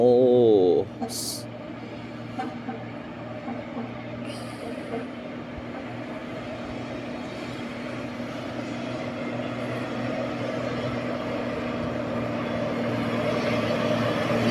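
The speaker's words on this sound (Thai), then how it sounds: "สิบล้อครับผม" A heavy ten-wheel truck's diesel engine drones steadily and grows slowly louder, with a brief hiss of air brakes near the start.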